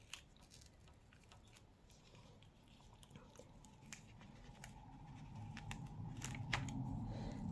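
Paper mask being gently peeled off a handmade thank-you card, a quiet rustling and tearing of paper with small crisp ticks, close and soft, growing slightly louder toward the end.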